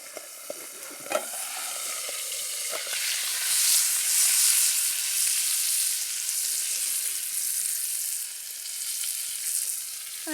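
Brook trout fry in butter on a twig stove outdoors, giving a steady bright sizzle with a few soft clicks and scrapes. The sizzle swells briefly near the middle, then settles into an even crackle.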